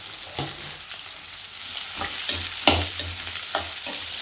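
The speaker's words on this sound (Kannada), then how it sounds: "ಈಗ ಚೆನ್ನಾಗಿ ಎಣ್ಣೆಲಿ ಬಾಡಿಸ್ಬೇಕು" Onion, coriander leaves and curry leaves sautéing in hot oil in a home kitchen, a steady close sizzle broken by several sharp scrapes and clacks of a spoon stirring against the pan, with no talking.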